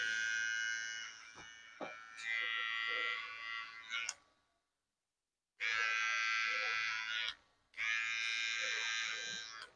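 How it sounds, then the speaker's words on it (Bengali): An electric trimmer buzzes close up while cutting moustache hair. It runs in three sustained bursts separated by brief silent gaps, with faint clicks and handling noise. "এবার মুসের উপরে অংশ কাটবো কিভাবে মেশিন দিয়ে।"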